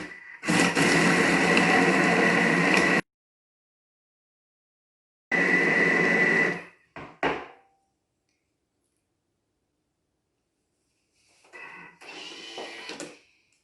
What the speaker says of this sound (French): J'ai mixé 20 secondes, vitesse 4, pour avoir ce résultat.